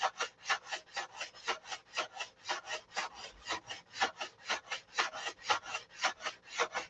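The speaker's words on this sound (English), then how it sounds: "That's going over the glue, so gotta keep sanding until that crunch, crunch, crunch goes away" Rhythmic sanding on wood over dried glue, quick even back-and-forth strokes with a gritty, crunchy rasp, close and steady throughout.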